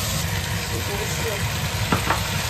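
Beef stir-frying with sugar in a pan for red-braised beef noodles, a soft steady sizzle with a couple of brief scraping stirs near the end. The sound is fairly quiet and close.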